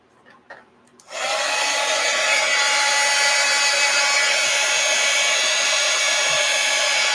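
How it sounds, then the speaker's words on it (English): A heat gun switches on after a second and blows a steady, loud whooshing roar over an art journal cover, holding constant to the end with a few faint handling knocks before it starts. "Let's get the heat gun out."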